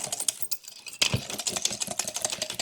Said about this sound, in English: In fact, I'm gonna get the whisk. Put some muscle into it.